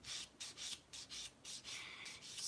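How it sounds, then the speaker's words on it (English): Sanding plastic model tank road wheels for a 1943 Kharkov diorama: repeated short rubbing strokes in a steady back-and-forth rhythm, close and fairly quiet, with no voices. "let's sand some road wheels."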